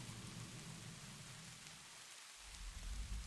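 Steady rain falls at night along a dark road, a dense, even hiss that holds throughout, with a low rumble rising near the end.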